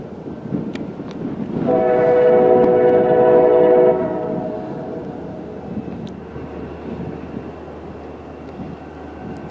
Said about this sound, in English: Looks like an EMD.